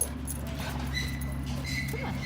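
A dog whimpers and yips close by in a short burst, with a person talking alongside.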